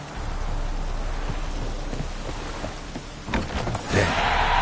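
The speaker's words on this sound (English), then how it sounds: "Looks like rain." Rain patters steadily in a PS4 video game, soft and continuous, before a thunder crack and rolling rumble break in near the end.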